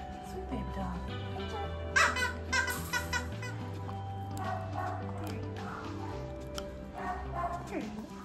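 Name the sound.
dog barking and whimpering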